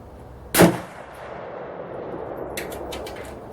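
A single sharp .308 rifle shot with a soft point bullet fired at a pizza pan target outdoors, one loud crack followed by a lingering echo and faint metallic clinks.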